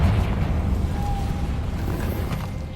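Blasting curse explosion in the Hogwarts Legacy video game, a deep continuous rumbling boom that sustains loudly throughout, with a faint brief tonal whine partway through.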